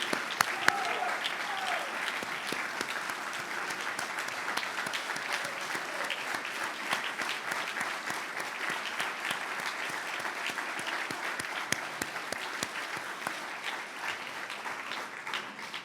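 An audience at the Army Sports Hall of Fame dinner breaks into a long, steady round of clapping that fills the hall at even strength, with faint voices beneath.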